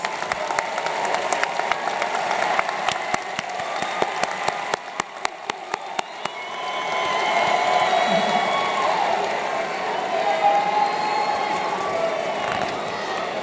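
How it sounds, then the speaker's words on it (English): Graduation ceremony audience at a high school applauds, a dense sustained wash of many hands clapping, then crowd noise and murmur continuing after the sharpest claps fade. "please stand and give yourself a round of applause for all your work with your students"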